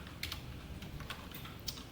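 Fingers tap out code on a computer keyboard in a few quick, light keystrokes with short pauses between them, close up and quiet against a soft background hum, with no talking.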